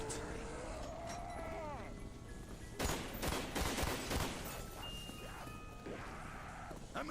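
Rapid gunfire in Call of Duty Zombies: a dense burst of quick shots in the middle of the clip, moderately loud over a game soundtrack and effects, with no talk during the shooting.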